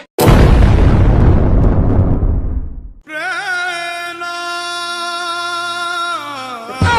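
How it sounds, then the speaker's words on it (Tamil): A Diwali firecracker set off under the step of a house goes off in one loud, close blast whose crackling roar fades over about three seconds before a sustained musical tone takes over. "பட்டாச வீட்டு படியில வைக்க சொன்னா இப்படியா அடியில வச்சுக்கிறீங்களேடி?"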